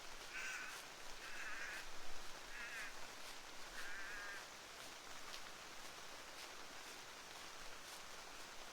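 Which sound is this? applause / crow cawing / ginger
crow cawing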